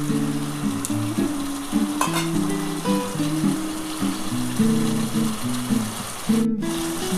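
Spiced masala being sautéed and stirred in a pan for a Bengali vegetarian broad bean, potato and lentil-dumpling curry, a steady close sizzle and fry with scraping stir sounds, over a background of music.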